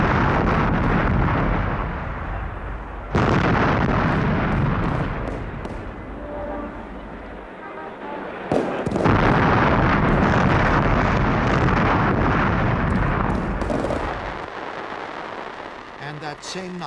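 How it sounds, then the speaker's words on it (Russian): Artillery guns fire a salute in Moscow for the liberators of Kyiv, loud booming blasts and rumbling bursts recurring amid wind-like noise, with a voice narrating over parts. "Москва салютовала освободителям Киева."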